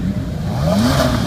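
An Ariel Atom 3.5R running a Honda Civic Type R engine, tuned to around 350 horsepower with a 6-speed sequential gearbox, gives a short, rising rev. The pitch climbs quickly for about a second, close and fairly loud.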